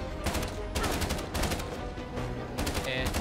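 Automatic gunfire in the video game Uncharted: The Lost Legacy: loud, rapid bursts of shots repeat across the clip with short gaps between them, close and dense.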